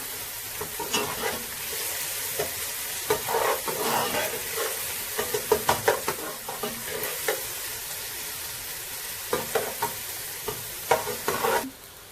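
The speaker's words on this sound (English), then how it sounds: "Then we add our onion. We fry it." Onion frying in sunflower oil in a pan, a steady close sizzle with repeated scraping and clinking as it is stirred, no voices.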